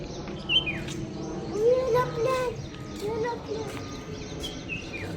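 Morning birdsong outdoors near trees, with scattered chirps, whistles and a few louder calls against a soft steady background, faint distant voices mixed in.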